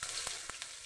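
Mustard seeds and green chillies fry in hot white oil for a yogurt tempering, giving a close, steady sizzle dotted with small pops and crackles, with no talking.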